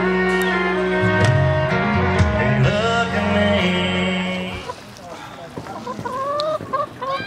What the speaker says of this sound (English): He's chasing the chicken.